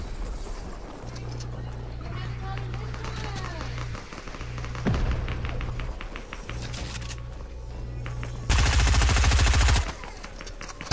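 Bursts of video game gunfire from an opponent who appears to fire with no gun in hand, rapid repeated shots rattling across several seconds, with a louder, dense volley near the end over steady game background noise.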